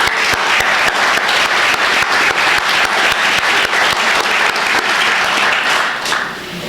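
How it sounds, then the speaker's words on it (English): Loud, sustained applause from a crowd at a town caucus, dense close clapping with sharp accents running nearly seven seconds before tapering slightly at the end. "Please give yourselves a round of applause"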